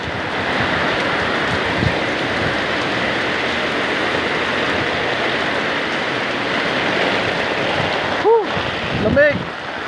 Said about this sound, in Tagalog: Yes, yan, lakas ng ulan.